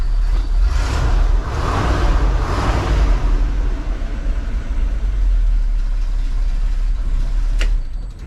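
A highboy ranch truck engine idles steadily and close by, a low rumbling drone that holds even throughout, with one brief sharp click near the end.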